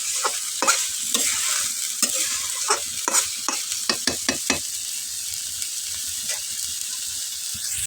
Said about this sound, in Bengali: একে ভালো মতো না ভাজ দিয়ে দিই, যে ফুলকপি যেন ভালো মতো ভাজা হয়ে যায়